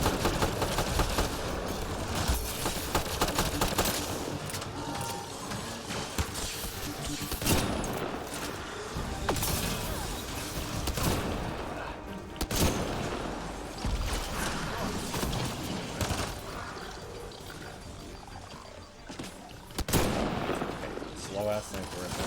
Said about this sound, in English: Slow ass sniper rifle.